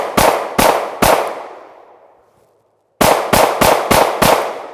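A SIG P365 FUSE pistol fires three shots, the last one's echo trailing off, then after a pause five quick shots in rapid succession, all loud and close, sharp cracks with no talking.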